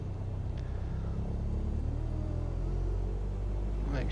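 A light aircraft engine holds a run-up at 1,800 RPM in Microsoft Flight Simulator 2020, a steady low droning rumble heard continuously from the cockpit with a couple of faint clicks.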